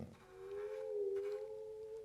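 A musical saw holds a single wavering, eerie tone that bends slightly, sounding like a distant train whistle, faint and alone.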